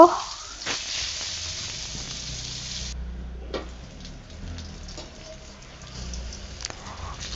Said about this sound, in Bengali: ফার্স্টে আমি বেগুনগুলো ভেজে নিব।